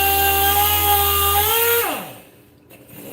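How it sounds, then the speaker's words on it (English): A power sander works over the body of a BMW E36 M3 during paint prep. Its steady motor whine drops in pitch as it winds down and stops, leaving quiet shop noise. "The sandpaper's starting to cake up a little bit, so I'm gonna get another piece."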